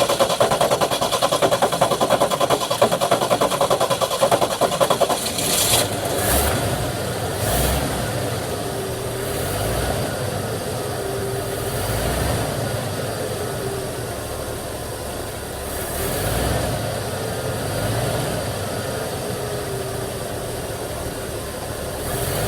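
A 1974 Ford F-250 SuperCab with the 4.9 engine grinds through a few seconds of cranking, then settles into a steady, rough idle. The engine is close and fairly loud, with no talking.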